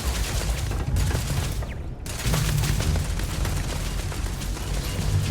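Turret gunfire in the video game Starfield: a steady, dense barrage of rapid shots and mechanical thuds roars throughout, dipping briefly once before resuming, with no talk.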